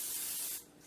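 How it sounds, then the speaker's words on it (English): A short, close burst of nonstick cooking spray hisses loudly from an aerosol can, then cuts off abruptly. "I'm just using nonstick spray."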